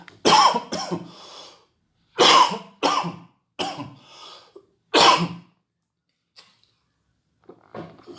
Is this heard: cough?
yes